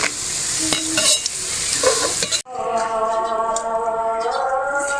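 Drumstick flower fritters sizzle and crackle vigorously in hot oil in a pan, with a steady hissing fry close by and a brief clatter of stirring.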